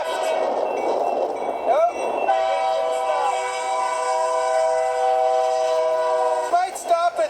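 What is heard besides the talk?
train passing by on the line, horn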